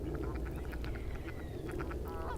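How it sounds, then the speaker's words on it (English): Ducks and geese raised together call out in a steady mix of quacks and honks over a busy, noisy background, with repeated calls spread across the whole stretch. "All the ducks and geese that have grown up together, and they swim and they play together."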